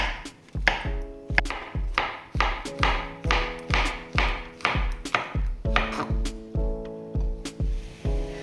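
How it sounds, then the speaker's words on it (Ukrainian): A knife slices mushrooms on a cutting board, rapid even strokes close up, repeating throughout with no talking. "Поки курочка обсмажується, перейдемо до грибочків. Нарізаємо на такі шматочки."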